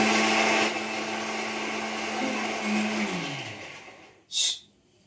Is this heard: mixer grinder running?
yes